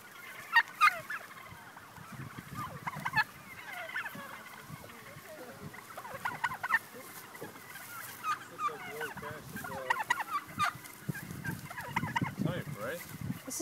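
Bourbon Red turkeys gobble repeatedly in a noisy flock, bursts of warbling calls rising and falling with other fowl chatter throughout.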